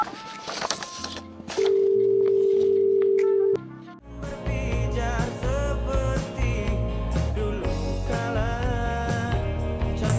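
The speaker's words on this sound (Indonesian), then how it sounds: "Yaudah, bentar gue telepon dulu ya." A telephone dial tone hums steadily for about two seconds as a call is placed, clean and constant, before music takes over.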